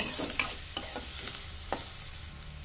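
Green chillies, coriander and curry leaves fry in a pan, a soft continuous sizzle broken by a few light scrapes and taps of a stirring spoon.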